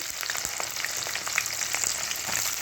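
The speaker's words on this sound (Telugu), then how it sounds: "ఇప్పుడు నేను ఉల్లిపాయలు వేసేస్తాను, పచ్చిమిరపకాయలు" Onions and green chillies hiss steadily in a pan of hot oil for a cauliflower masala curry, a dense even sizzle with faint crackles and no voices.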